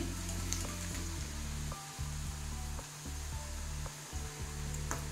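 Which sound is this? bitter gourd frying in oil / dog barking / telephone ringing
bitter gourd frying in oil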